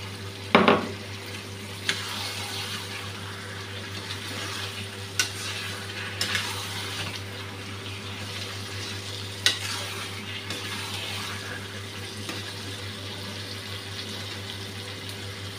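Chicken and potatoes fry in a pan with a steady sizzle, while a utensil stirs and scrapes the metal in occasional sharp clinks and one louder knock near the start; close and continuous, no speech.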